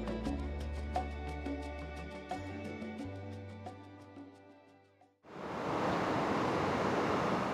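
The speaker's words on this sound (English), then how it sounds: "From here, I headed down to Sunset Beach" Waves wash onto the shore at Sunset Beach in Vancouver, a steady, loud rushing surf that takes over abruptly after several seconds of music.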